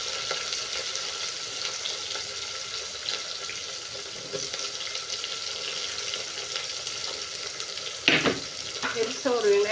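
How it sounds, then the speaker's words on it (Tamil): Big chopped onions frying in a pan give a steady sizzle that runs throughout, with a louder burst of crackling and clatter near the end as more goes in and is stirred. "இப்போ வந்து வெங்காயம் போட்டுடலாங்க. அதில் நம்ம கட் பண்ணி வச்சுருக்கிற பெரிய வெங்காயம் போட்டுக்கலாம்"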